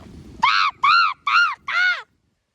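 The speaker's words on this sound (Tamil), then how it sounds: "இந்த காக்கா மொத்தமாக சாப்பிட்றேன் சாப்பாடு" A crow caws four times in quick succession, loud and close, each call a harsh drawn-out note, after a brief murmur of background noise.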